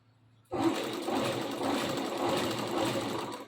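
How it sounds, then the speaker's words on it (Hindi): A sewing machine starts up after a moment of near silence and runs continuously, a close, steady whirring hum as it stitches a salwar, with no talking. "सिलाई लगाएंगे"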